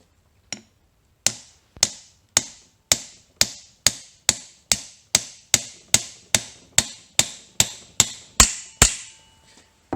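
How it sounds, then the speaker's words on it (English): A hammer drives a Wavetrac limited slip differential part into place on a 2014 Ford Focus ST, about eighteen sharp metallic strikes in a steady rhythm, close and loud. "and then you take your hammer"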